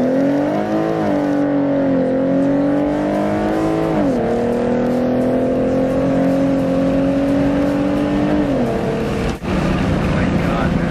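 A Ford Mustang with a 3.7L engine, 3.73 gears and a tuned transmission accelerates hard with wheelspin, its engine loud and close, revs climbing and dropping at each upshift over a sustained roar.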